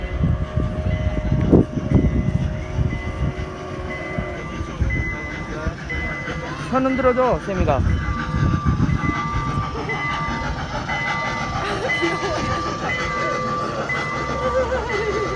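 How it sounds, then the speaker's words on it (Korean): A train rumbles past at an old Jerusalem railway station with metallic rattling and squealing, its noise rising and falling, while people talk nearby. "어 기차 온다 기차."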